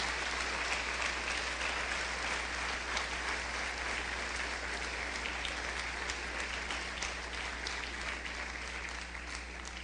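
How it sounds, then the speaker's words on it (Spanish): Sustained congregational applause fills a church service, a steady wash of many hands clapping continuously throughout at moderate volume. "Demos una ofrenda de palmas"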